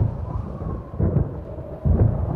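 Low rumbling thunder rolls over a steady wash of rain, with a couple of heavier swells as the storm booms nearby.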